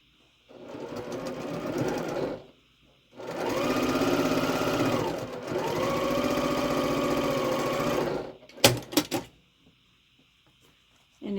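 A sewing machine stitches rows of a Hidden Star quilt block in three close, steady runs of a few seconds each, separated by short pauses, with a brief clatter of handling near the end and no talking.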